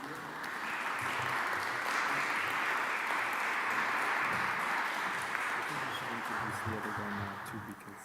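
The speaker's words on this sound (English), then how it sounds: "let's give a round of applause to our guest speaker tonight" An audience gives a round of applause for a guest speaker at an evening talk, sustained clapping that swells and holds for several seconds before fading slightly.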